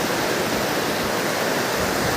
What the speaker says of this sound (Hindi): सिद्धबली के सामने जो नदी है वही खो नदी है।